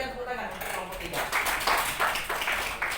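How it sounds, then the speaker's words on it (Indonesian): Brief, fairly quiet classroom applause for a student group in an Islamic studies lesson, a scattered patter of clapping hands that builds after a spoken voice at the start. "Berikan tepuk tangan untuk kelompok 3"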